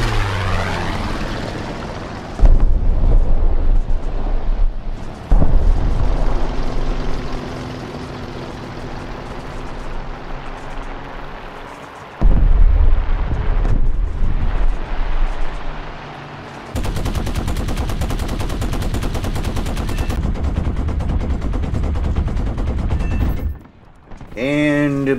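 Loud P-51 Mustang propeller engine drone in War Thunder, broken by bursts of rapid machine-gun fire from an enemy rear gunner and impacts on the engine, with game-style sound effects.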